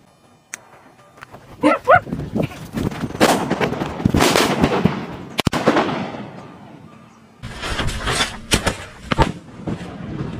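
Diwali village firecrackers, country-made crackers, burst in a rapid, irregular string of sharp loud bangs and crackles, with a dog barking amid the blasts and a second volley of pops near the end.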